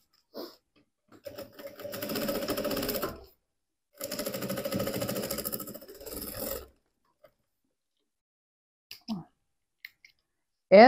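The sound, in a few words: sewing machine stitching a teddy bear backpack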